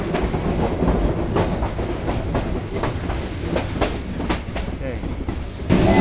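A train on the Shaistaganj–Sylhet rail route rumbles loudly from onboard, wheels clacking in steady rhythmic beats over a continuous roar.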